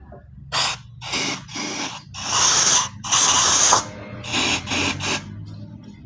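Compressed air blasts through a petrol tank drain pipe in repeated hissing bursts of varying length, separated by short pauses, loud and close with no speech.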